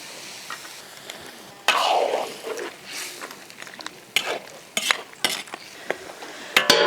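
Chicken stir-fries in a large iron wok, irregular spatula scrapes and clanks over a light sizzle, close and fairly loud, with no talk.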